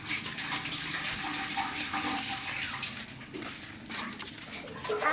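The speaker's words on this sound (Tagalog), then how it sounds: "Yung mainit na tubig." Hot water pours and splashes steadily, with a broad hissing rush that swells and dips, a few louder splashes near the end; no talking is heard.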